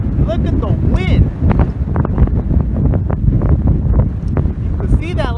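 Strong gusting wind roars in a thunderstorm line in the desert near Victorville and Lucerne Valley, California, a loud, steady rushing buffeting the microphone from inside a car, with a person talking excitedly over it.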